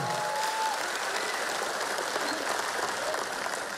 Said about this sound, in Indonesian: Tepuk tangan dong untuk Mas Ganjar dan Prof Mahfud, luar biasa.